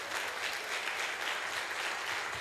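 A church congregation applauds together, a dense, even wash of clapping sustained throughout with no voices rising above it.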